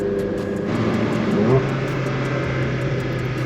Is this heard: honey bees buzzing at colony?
no